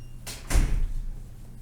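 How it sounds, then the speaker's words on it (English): A door in a hunting blind swings shut with a quick scrape followed by a dull, low thud, close by and brief, with quiet room noise after. "close the blind, close the door in the blind?"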